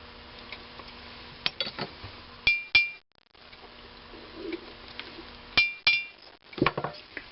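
Several sharp metallic strikes of a hammer on a 1926 McCormick-Deering Type M engine part ring out, a few in quick succession, with brief ringing tones between quieter handling noises.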